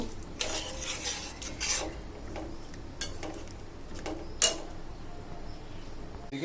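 Onion, garlic and green chilli being sautéed in a pan, heard as soft stirring and spoon scrapes with occasional metallic clinks of utensil on pan, steady low background hiss, no talking.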